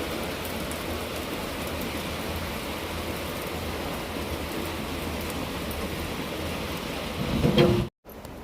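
Steady, heavy evening rain hisses on and on with no voices, ending in a brief, close clatter and a sudden drop.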